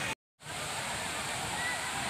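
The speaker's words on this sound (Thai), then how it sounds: "น้ำตกชัยปิตินะครับอยู่ตรงมวกเหล็กสระบุรีนะครับผม" The roar of Chai Piti waterfall at Muak Lek, Saraburi: a steady broadband rush of falling water that cuts out for a moment near the start and then returns at full strength.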